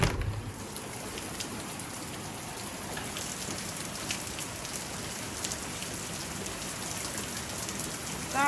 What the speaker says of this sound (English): that is definitely rain.